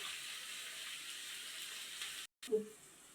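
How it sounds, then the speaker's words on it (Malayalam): Chopped onion dropped into about two spoons of hot coconut oil in a pan, a soft steady sizzle throughout, briefly cut off, then a small splash of frying noise near the end. "കുറച്ച് നേരത്തെ അരിഞ്ഞ് വെച്ച ഉള്ളി ഇടുക"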